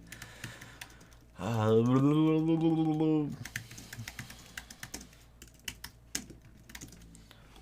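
Typing on a computer keyboard makes quick, uneven clusters of close key clicks, briefly interrupted by a drawn-out spoken word partway through.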